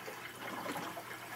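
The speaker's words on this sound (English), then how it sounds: "It creates a suction in here, and all the water just goes all the way down." Water gurgles and rushes as it drains down through a bell siphon standpipe in a gravel-filled tank, a soft, fairly close swirling flow that swells midway.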